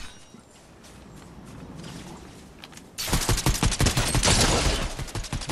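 Rapid video game gunfire, a loud, close volley of fast shots that erupts abruptly after a few seconds of quieter background ambience.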